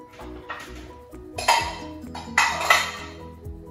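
Dishes, pots and frying pans clink and clatter on a kitchen counter while duck wings are cooked, with a few sharp metallic knocks and two louder bursts of handling, close and alone without talk.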